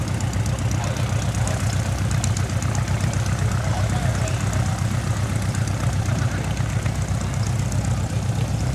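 A small Kingfisher amphibious airplane, a shoulder-wing monoplane with a flying boat hull and outrigger pontoons, runs its propeller engine with a steady throbbing drone, loud and close throughout.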